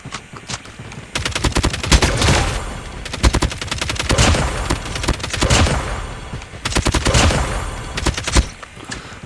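Rapid automatic gunfire in the shooter COD Mobile, with loud, close bursts of crisp shots in several volleys separated by brief pauses, and no talk over them.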